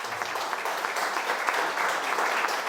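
A crowd at a political party gathering clapping loudly and steadily, a dense sustained wash of applause with no break.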